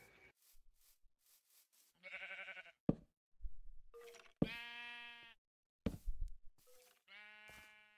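Sheep bleat repeatedly in a survival video game, several loud, nasal calls in quick succession with short quiet gaps and brief clicks between them, no voices over them.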